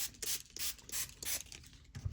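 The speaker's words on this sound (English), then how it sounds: "I'm going to spray some water all over it." Repeated short hissing bursts of water sprayed from a spray bottle onto a mixed media masterboard coated in stain, several quick pumps in an uneven rhythm, close and fairly quiet.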